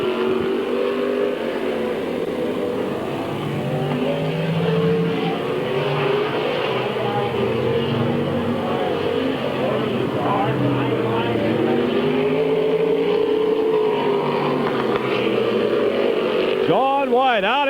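Race cars roaring around Midvale Speedway in 1999, a steady loud wash of engine drone with passing cars sweeping by, and a sharp rising whine near the end as one car passes close; an announcer's voice runs over it.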